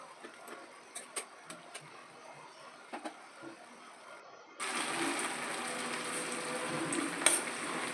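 A spatula stirs rice and ash gourd cooking in a pan. Faint scrapes and taps come first, then a loud, steady sizzle of frying takes over for the second half.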